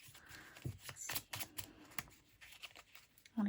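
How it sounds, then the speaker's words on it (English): Tarot cards being shuffled by hand in a close, quiet setting: a run of soft, irregular riffling and slapping sounds with brief pauses between bursts. "I want to keep shuffling."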